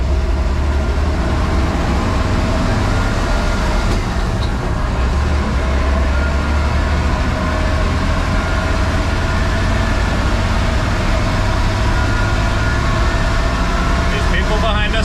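Turbocharged International Harvester truck engine droning steadily from inside the cab as it drives and works through its gears, a loud continuous low rumble with road noise throughout.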